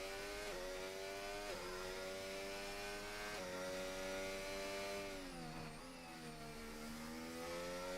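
Race car engines in a racing video game at the Saudi Arabia round, cars leaving the pit lane with a steady high-pitched whine that rises and falls as they shift, faint and continuous.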